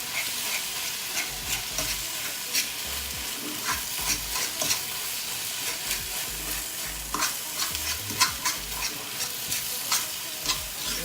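Plantain slices fry in hot oil with a continuous crackling sizzle, dense bursts of pops over a steady hiss, close and moderately loud, with occasional stirring scrapes.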